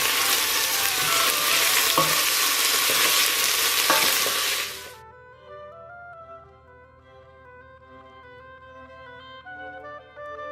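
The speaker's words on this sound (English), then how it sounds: "The onions and the garlic have been cooking for a while now" Onions and garlic fry in a pan with a steady, loud broadband sizzle for about five seconds, with a few sharp clicks of stirring, then cut off abruptly to leave quieter tonal background music.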